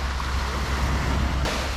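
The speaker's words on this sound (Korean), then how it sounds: "맨날 ASMR로 듣던 파도 소리를 그냥 생으로 듣고 있네요" Ocean waves wash steadily along the shore at Busan, a broad, continuous roar with a slight rise near the end, close and moderately loud, with no voices.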